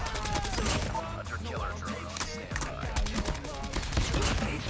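A KN-44 rifle fires in Call of Duty Mobile in rapid automatic bursts, loud and dense, with continuous game action behind it. A voice talks quietly underneath.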